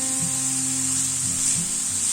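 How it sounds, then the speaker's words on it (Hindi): Carrots fry in ghee in a pan for carrot halwa, giving a steady hissing sizzle with soft stirring scrapes and bumps underneath, close and continuous with no talking. "हम थोड़ा सा गाजर और घी को फ्राई कर लेते हैं"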